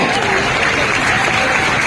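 Dense crowd applause at a Dahi Handi practice camp as a Govinda troupe spins a human pyramid, steady clapping filling the clip with a voice talking over it.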